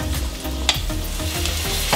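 Onions and bacon sizzle steadily in a frying pan with garlic added, a constant hiss broken by a few scraping stirs, close and moderately loud with no talking.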